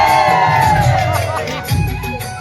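Dense crowd noise at the Marka fair, a Magh Purnima gathering in Bemetara, Chhattisgarh: a continuous mix of many voices, shouts and calls, close and busy, with no single sound standing out.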